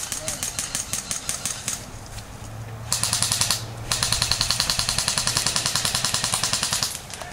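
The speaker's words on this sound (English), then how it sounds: "they're giving us pretty good suppression fire" Airsoft guns laying down suppression fire during a team skirmish, with rapid full-auto bursts of sharp clicking shots that are loud and steady for most of the clip, briefly pausing near the middle.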